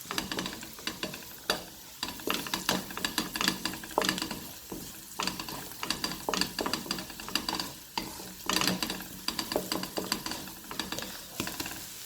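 A spoon stirs turmeric powder and spices through a pot of daal base, scraping and clinking in an uneven rhythm over a low simmer, close and moderately loud with no talking.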